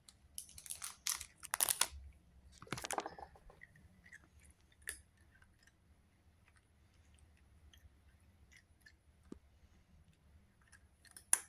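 A pet crunches a treat at home, a few crisp bursts of chewing early on, then quieter clicks and faint rustles with long near-silent gaps.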